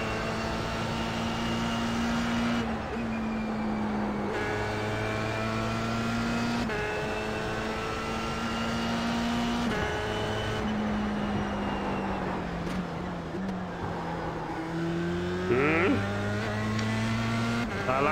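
A Formula 3 race car at Imola in the iRacing sim drones with a buzzing, high-revving engine that holds flat against the rev limiter. The pitch breaks off and comes back several times, with occasional talk over it.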